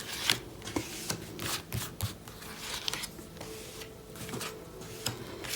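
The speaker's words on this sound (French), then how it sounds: "on va placer 5 cartes" Tarot cards are laid out for a five-card spread, with close, soft shuffling, sliding and tapping of cards in irregular bursts.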